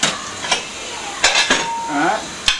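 Heavy stone grill dishes clatter and clink as they are loaded into a dishwasher rack, with several sharp knocks and scraping over constant running water and kitchen noise.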